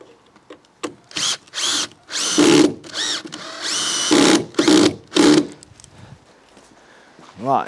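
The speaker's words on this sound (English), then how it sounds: "I've got the correct screwdriver in the drill." A power drill fitted with a screwdriver bit fires in a rapid series of short, loud whirring bursts, each starting and stopping sharply, as screws go into a timber wall frame close at hand.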